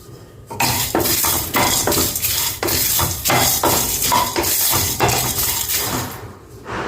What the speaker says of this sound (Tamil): இப்போது ஒரு கைப்பிடி அளவு கருவேப்பிலையும் இதோடு சேர்த்து வறுத்து கொடுங்க